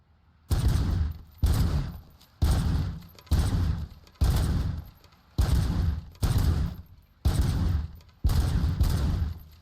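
Loud, evenly spaced bursts of gunfire, about nine in a row, ring out on a shooting range in the Robocop: Rogue City video game, each burst followed by a brief silence.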